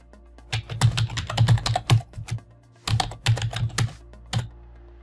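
Someone types a question on a computer keyboard, giving crisp, close key clicks in two quick clusters separated by a short pause, with a final tap at the end.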